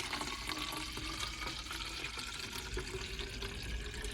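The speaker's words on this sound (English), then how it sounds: "I'm going to fill up this water bottle with my old pitcher." Water pours steadily from an old pitcher into a Nalgene bottle, a continuous close splashing and gurgling stream that runs throughout without interruption.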